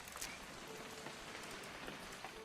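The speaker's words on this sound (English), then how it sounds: "It's gonna rain the whole weekend," Rain falls steadily in a video game set at the Finch family's strange house. It is a faint, even patter of drops with no voices.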